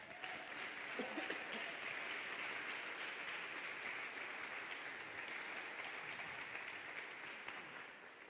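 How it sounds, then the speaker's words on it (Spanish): A church congregation applauds in a sustained, even wave of clapping that fills the room, with a brief voice near the start under the noise. "Denle un fuerte aplauso al Señor."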